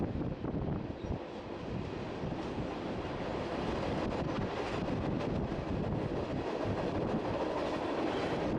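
A Union Pacific freight train rumbles past up close in Wyoming or Nebraska, with steady heavy roar, rattling wagons and some wind buffeting the microphone throughout.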